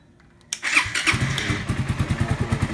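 A Suzuki Raider R150 Fi with a faulty starter relay cranks and fires up after a quiet moment, then settles into a close, even idle with a steady pulsing beat.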